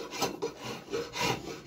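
A drawknife shaves long strips from green wood while shaping an axe handle, giving several close, rasping strokes in an uneven rhythm.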